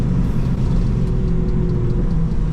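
A BMW S55 engine with a catless Valvetronic equal-length exhaust revs in a steady, loud, deep rumble, the drone holding nearly constant and close by for the whole stretch, with no voices over it.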